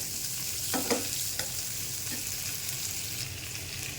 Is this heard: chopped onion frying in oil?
yes